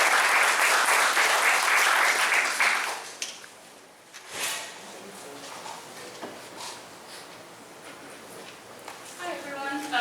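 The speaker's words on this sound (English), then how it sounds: "let's give her a big round of applause and welcome her to the stage" An audience at a public meeting applauds to welcome a speaker to the stage, with loud, dense clapping for about three seconds that stops abruptly, followed by quieter stage handling noises.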